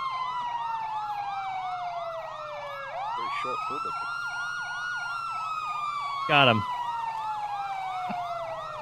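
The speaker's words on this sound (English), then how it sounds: "let's turn those sirens off." A loud police siren in the video game GTA 5 wails continuously, sweeping up and down in a fast cycle, with a brief short remark spoken over it.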